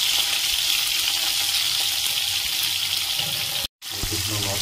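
Onion and garlic fry in a pan for a fish curry, a steady close hiss and sizzle with faint stirring, cut by a brief silent gap before frying resumes.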